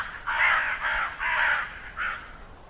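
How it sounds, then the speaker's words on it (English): Crows caw in the Dead by Daylight video game: four harsh, raspy calls in a steady rhythm, the last one shorter and softer, moderately loud against a quiet background. "Frickin' crows."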